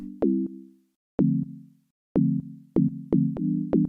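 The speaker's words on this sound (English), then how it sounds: "It's just a sine wave patch that I made in Operator." A pure, smooth sine wave synth tone from Ableton's Operator playing a short sequence of low notes, each starting with a click and fading, sparse and bare.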